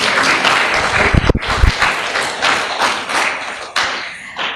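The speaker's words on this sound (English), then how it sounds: "I thought we were going to clap for that." An audience at a regional journalists' awards event claps, a moderate burst of applause with thumps and taps in the hall that rises and tapers over a few seconds.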